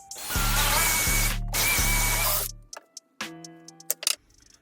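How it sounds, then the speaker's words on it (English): A Makita power drill bores through a piece of scrap wood in two loud bursts of whirring for about three seconds, then stops, followed by a few sharp clicks and knocks. "and then drill all the way through"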